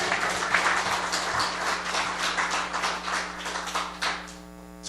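A church congregation claps together in a room, a brisk, fairly loud burst of many hands over a low mains hum that fades out near the end.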